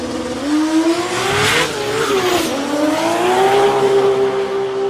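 A street race car roars through a high-speed run at a street drag challenge, its engine pitch climbing steadily, dipping briefly, then climbing again as it screams loud and close for the whole stretch, with no talk.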